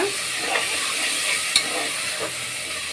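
Onions and tomatoes being sautéed in a pan for country chicken curry, a loud, close, continuous sizzle broken by a few sharp spoon scrapes, no voices.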